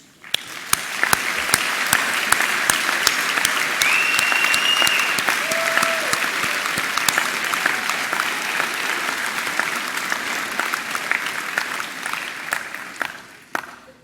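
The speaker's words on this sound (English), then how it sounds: "I think you all deserve a round of applause" A large graduation ceremony crowd applauds staff in a sustained, loud burst of clapping that swells in and fades out near the end, with occasional sharper claps standing out from the roar.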